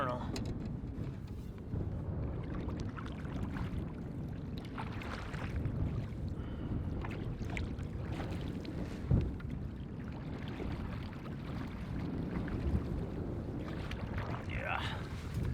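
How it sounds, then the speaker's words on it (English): Strong, steady wind roars across an Algonquin lake around a canoe, a dense broadband rush with gusty swells and no lull for the full stretch, with occasional small knocks and water sounds. "No breaks, just constant wind."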